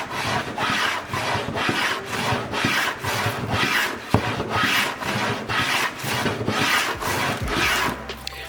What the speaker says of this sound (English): we're going to take a block plane, kind of balance it right on the corner, and split the angle between the rail and the top planks